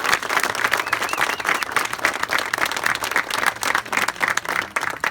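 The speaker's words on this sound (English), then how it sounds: "Let's give them all a great round of applause." Sustained applause from a crowd at a park ribbon cutting, dense steady clapping that stays loud for the whole stretch with no talk over it.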